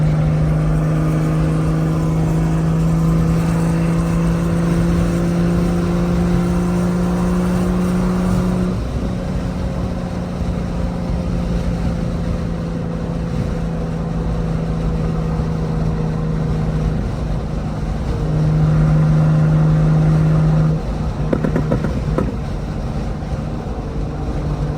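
Big-turbo BMW M535i engine drones steadily from inside the car during a drive, a continuous loud low hum with gear-linked pitch shifts and no talking.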